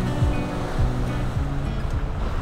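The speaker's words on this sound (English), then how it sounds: "And we are sailing." Catamaran beating through waves in Force 7 wind, with constant loud rushing water and wind noise and rhythmic thumps of the hull hitting the waves roughly every half second.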